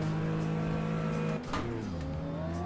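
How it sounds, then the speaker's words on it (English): A 1964 Porsche 901 engine running steadily at Le Mans, close and loud as a drone, briefly changing pitch as if shifting gear or lifting off before settling again. "So we're now in the 1964 Porsche 901"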